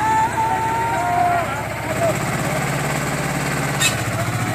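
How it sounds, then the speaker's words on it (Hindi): A tractor engine chugs steadily nearby on a steep mountain footpath to Kedarnath, a low rumbling drone, while people talk over it. "ये इस ट्रैक्टर को लाया जा रहा है ऊपर।"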